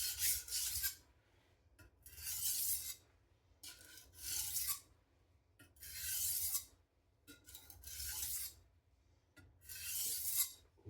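A knife blade is drawn across an Atoma diamond sharpening plate in slow, even strokes, about six soft gritty rasps separated by brief quiet gaps, close and fairly faint.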